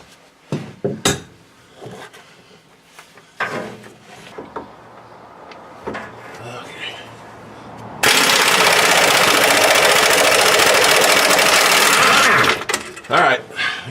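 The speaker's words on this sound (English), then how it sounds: "Air wrench now." An air wrench removes bolts on a 2008 Dodge 2500 during a rear wheel seal job, giving one loud, continuous buzzing rattle lasting about four seconds, preceded and followed by clanks of tools and someone talking.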